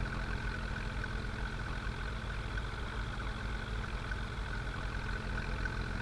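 Engine idling with a steady low rumble and hum, continuous and even throughout, moderately quiet with no voices.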